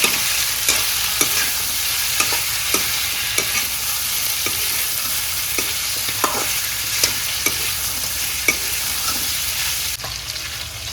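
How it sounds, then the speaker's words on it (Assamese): Pork sizzles steadily as it fries in a pan, punctuated by regular clicks and scrapes of stirring, close and fairly loud. "একদম ধুনীয়াকৈ ভাজিব লাগিব এটা অকণমানকৈ"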